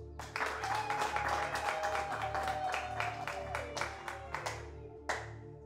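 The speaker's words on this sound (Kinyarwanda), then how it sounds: "Nagira ngo rwose nk'itorero nimwiha amashyi." A church congregation breaks into steady, lively applause, many hands clapping together for about five seconds before it thins out, with a faint murmur of the crowd underneath.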